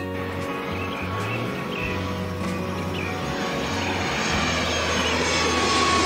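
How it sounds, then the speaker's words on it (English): A steady airplane engine drone fills the scene, a constant low roar that swells slightly louder toward the end, with faint bird chirps in the background. "Airplane. A powered flying vehicle with wings and engines that allow it to travel through the air."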